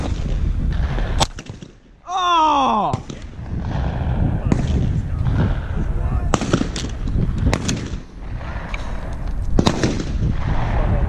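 A shotgun fires at skeet and trap clay targets outdoors, with several sharp, loud blasts ringing out among people talking, plus a brief whistle-like sweep.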